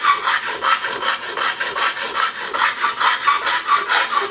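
A metal file strokes back and forth across the frets of a Squier Classic Vibe Telecaster during a fret level, making close, even rasping passes in a steady repeating rhythm.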